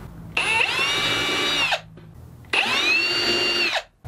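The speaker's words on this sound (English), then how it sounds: "To drill the holes perfectly centered, I'm using one of these self-centering spring-loaded drill bits." A power drill with a self-centering spring-loaded bit whirs in two short bursts while drilling hinge holes, each spinning up, running steadily for about a second, then stopping.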